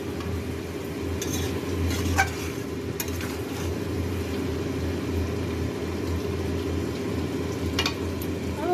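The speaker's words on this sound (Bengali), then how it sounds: "দেখো পুরো রান্নাটা, মাংসটা কষছে" Mutton cooks as kosha in a pan, with a steady sizzle and repeated scraping stirs of a spoon against the pan's surface, close and continuous with no talk.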